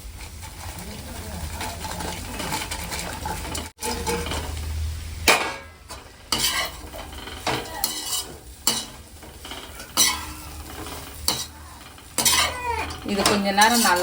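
Chicken pakoda tossed into a pan and stirred while it sautés, with metal spoon clanks and scrapes against the pan over a low sizzle; someone speaks briefly partway through.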